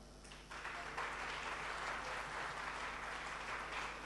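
Steady broadband applause from an audience at an Independence Day special event, starting thinner and swelling to a dense, continuous clapping after the first half second, with no talk over it.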